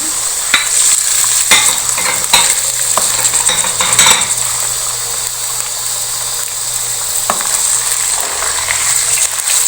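Chicken pieces go into golden fried onions for haleem and sizzle loudly in hot oil as a utensil stirs and scrapes the pot, giving sharp clatters over a constant frying hiss.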